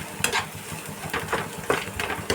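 Egg curry masala sautéing in oil over low heat, with a spoon scraping and stirring the pan in a few repeated strokes against a faint sizzle.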